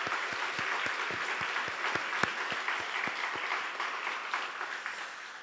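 Congregation in a Sunday church service breaks into sustained applause, dense overlapping clapping with several louder, distinct claps ringing out, holding steady for several seconds at moderate distance.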